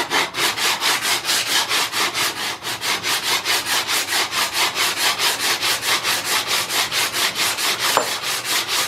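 The sole of an Ohio Tool Co hand plane being sanded flat, steady back-and-forth abrasive strokes in an even rhythm of roughly four per second, close and loud with no talk.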